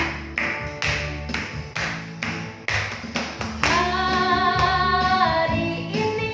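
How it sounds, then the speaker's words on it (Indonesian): Hands clap in a steady beat during a children's Sunday school worship song, several crisp claps over the first half before the singing and music swell louder and carry on. "Tepuk tangannya."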